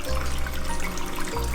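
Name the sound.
Gardyn indoor garden watering system running water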